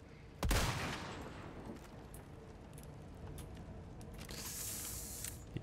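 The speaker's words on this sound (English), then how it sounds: "That was like 4 shots, I think." Gunfire in the Resident Evil 4 video game: one loud, sharp shot burst near the start, then quieter game noise with a brief rise of hiss toward the end.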